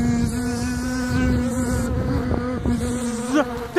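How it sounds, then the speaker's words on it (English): A swarm of wasps buzzes loudly and continuously, close by and overlapping in a dense drone, with a few sharper passes near the end. "There's a ton of wasps."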